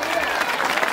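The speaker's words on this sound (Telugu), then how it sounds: "విశ్వాసం ఉంటే చప్పట్లు కొట్టి స్తోత్రం చెప్పు సార్" A church congregation at a grand Christmas celebration claps in a brief, close, dense burst of applause.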